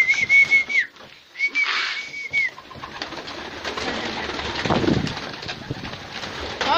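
Pigeons being fed outdoors, with soft cooing and bird calls, two high whistle-like tones early on, and a burst of wing flapping midway.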